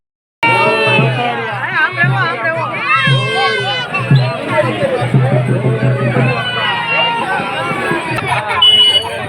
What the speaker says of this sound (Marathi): आणि बऱ्यापैकी गर्दी आहे.